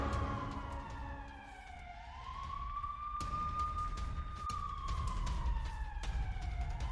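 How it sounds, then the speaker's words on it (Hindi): Air raid sirens wail continuously over Tel Aviv, a rising and falling tone sweeping slowly, with a second siren overlapping and steady city rumble and scattered clicks underneath. "तेल अवीव में लगातार बज रहे हैं सायरन"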